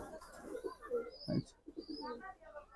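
Large pigeons coo in soft, repeated low rounded phrases at close range, with a faint higher chirp now and then.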